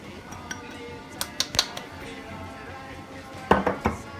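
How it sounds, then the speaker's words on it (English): Canned black beans and corn go into a pan of onions, with scattered clinks and clatters of utensils and cookware, the loudest cluster near the end, over a quiet background. "So now we're going to add 1 can of black beans, and then 1 cup of corn"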